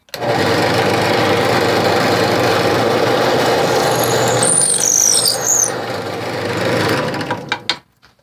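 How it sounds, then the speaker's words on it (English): A steady, loud power drill with a 1/4 inch bit whines continuously for several seconds drilling a hole in wood, then winds down and stops near the end. "So now I'm going to drill a hole out with a 1/4 inch drill bit."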